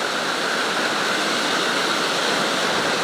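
The Cascade du Bout du Monde waterfall pours in a steady, dense roaring rush, loud and unbroken, with no voices over it.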